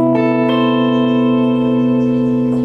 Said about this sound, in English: Final one then is a major 13 chord.